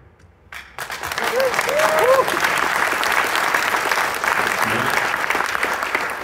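A crowd bursts into sustained, loud applause after a brief quiet moment, the clapping steady and dense throughout with a few whistles early on.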